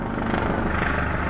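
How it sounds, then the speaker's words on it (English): Police helicopter flying overhead above a street, a loud steady rotor and engine roar that fills the moment without talk. "Helicopter."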